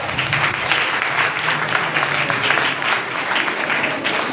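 An audience in a school podcast maths quiz setting gives a steady burst of clapping, a dense even patter of many hands held at moderate loudness for several seconds without voices.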